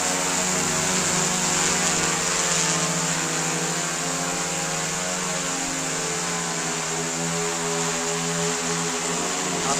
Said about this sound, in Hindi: ये आप देख सकते हैं तैयार हो गया ड्रोन।